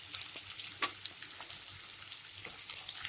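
Garlic and chopped onion frying in a pan for vegetable noodles, a soft crackling sizzle with scattered pops and occasional stirring scrapes, fairly quiet and close.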